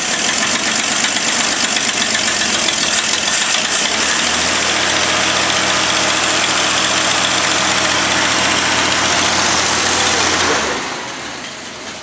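A 1954 Hudson Super Wasp Hollywood coupe's flathead engine idles loud and close with a steady, even rumble, a deeper low hum settling in partway through, before the sound drops off near the end.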